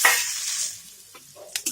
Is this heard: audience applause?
no